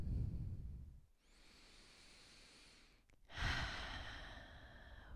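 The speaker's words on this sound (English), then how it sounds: "Let's take three big breaths right here." During a guided breathing exercise, a person draws one long, deep breath in and releases it, then takes another, with audible close airflow: a slow inhale, a pause, and a fuller, louder breathy exhale.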